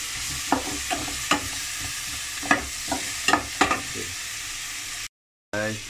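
Food sizzles steadily in a hot pan, close and moderately loud, with irregular scraping knocks from a utensil stirring it; the sound cuts out briefly near the end.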